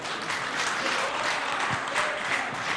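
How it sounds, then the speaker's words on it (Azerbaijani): An audience at a televised singing competition breaks into dense, sustained applause, many hands clapping together at a steady volume from start to finish. "Alqışlayaq, ikisini də alqışlayaq."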